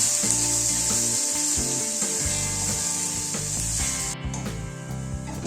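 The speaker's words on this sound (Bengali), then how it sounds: "এবার পেঁয়াজটা তেলের সাথে ভেজে নেব।" Chopped onion frying in oil in a pan, with a steady close sizzle and scraping, rubbing stirring strokes throughout, no voices.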